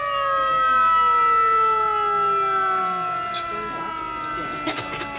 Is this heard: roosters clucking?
no